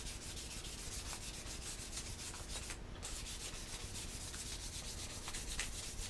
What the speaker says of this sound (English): It doesn't take a lot of sanding at this point.